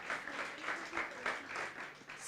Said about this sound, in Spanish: denle un aplauso al Señor que se están durmiendo